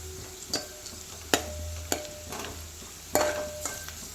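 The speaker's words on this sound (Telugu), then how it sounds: "దూరగా వేగిపోయింది ఉల్లిగడ్డ" Onions fry in a pan, a soft low sizzle under a series of sharp, irregular metallic scrapes and taps from stirring, heard close with no talking.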